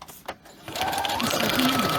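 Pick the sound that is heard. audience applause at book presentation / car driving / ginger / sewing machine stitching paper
sewing machine stitching paper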